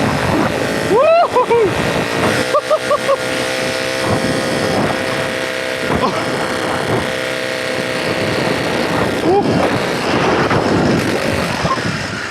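Solex 1400 moped engine on a first test ride, a steady buzzing drone with wind rush close by, while someone talks and whoops over it.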